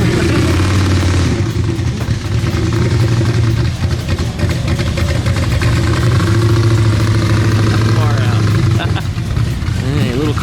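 A Volkswagen engine runs steadily at a car show, its low mechanical drone continuous and fairly loud throughout, with voices talking over it.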